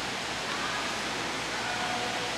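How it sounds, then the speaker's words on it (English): A waterfall inside a store pours with a steady, dense rushing roar, close and loud, unbroken for the whole stretch. "Is that a freaking waterfall?"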